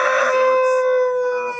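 A rooster crows loudly and close on a poultry farm keeping many chicken breeds such as Brahmas, Orpingtons, Cochins and Australorps, one long drawn-out call with faint clucking beneath it.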